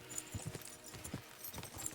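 Horses trotting in the Kingdom Come: Deliverance 2 video game, a steady run of overlapping hoof clip-clops over a continuous background, fairly faint and with no talk.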